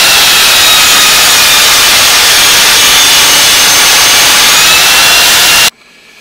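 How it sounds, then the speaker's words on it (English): A loud power sander whirs continuously on wooden cabinet drawer boxes with a steady high-pitched hiss, then cuts off abruptly near the end. "Just going to sand that."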